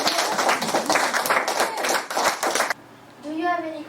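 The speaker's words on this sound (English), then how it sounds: "So now to thank Louis, we can applause." A group of children clapping in applause after a classroom presentation about a uranium mine, dense and lively for under three seconds before stopping, followed by a brief sung-like voice.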